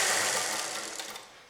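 A sewing machine stitches a sleeveless blouse in a fast, steady whir of the needle, close and loud, tapering off slightly at the end.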